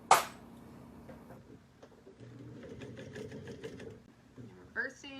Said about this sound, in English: Now we're going to top stitch this.